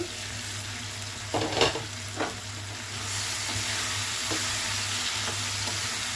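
Tomatoes steam and sizzle under a lid in a pan for bitter gourd curry, a steady soft hiss with a few brief clatters near the start, continuous and close with no talking.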